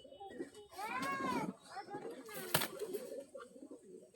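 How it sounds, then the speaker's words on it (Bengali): Pigeons let into a loft cage give faint, rising and falling cooing calls, with soft scuffling and a sharp click partway through, all heard quietly at close range. "কবুতরগুলো আমি খাঁচায় ছেড়ে দেখাই, দেখতে থাকুন"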